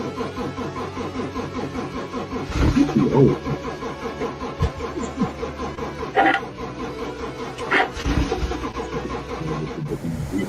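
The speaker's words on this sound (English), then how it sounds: "She couldn't start the car?" A car engine cranks repeatedly without catching, a rhythmic whirring starter with several louder sputtering attempts spread across the stretch, close and loud with no talking.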